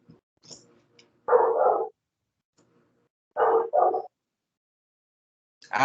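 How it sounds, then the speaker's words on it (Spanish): A dog barks a few times nearby, two short double barks separated by silence, with faint brief sounds in between. "hay un perro ladrando."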